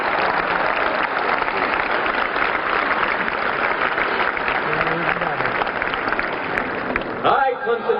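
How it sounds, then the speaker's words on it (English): A large outdoor crowd applauds and cheers at a Clemson Tigers national championship parade, a dense, steady roar of clapping that holds loudly for several seconds before breaking off abruptly near the end. "how about a round of applause for these men?"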